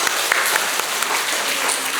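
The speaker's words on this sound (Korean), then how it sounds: "박수 한번 해주세요" Sustained applause from a church congregation during a sermon, a thick, even wash of many hands clapping at once for about two seconds.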